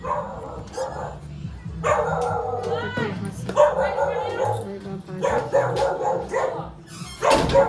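A dog barks and yips in several bursts, close and loud, with people talking in between and over the barking.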